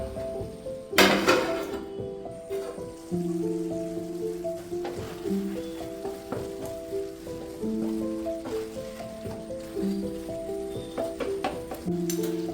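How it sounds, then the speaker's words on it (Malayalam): A mixed vegetable bhuna masala cooks covered on low flame, giving a steady soft sizzle with frequent light clinks of a lid and pan, close and continuous throughout. "മൂടി വെച്ച് 3 മിനിറ്റ് ലോ ഫ്ലെയിമിൽ കുക്ക് ചെയ്യാം."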